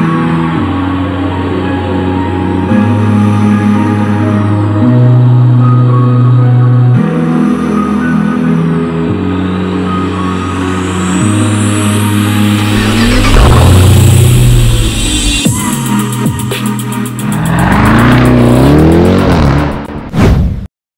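A Jeep Trackhawk engine revving and accelerating hard, a loud, close roar that climbs in steps through the gears before surging into a sweeping high rev near the end.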